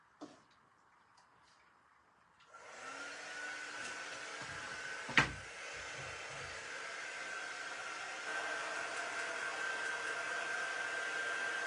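A hair dryer dries a chalk craft project, switching on with a click into a steady, close, loud whooshing blow that runs continuously with a brief knock midway.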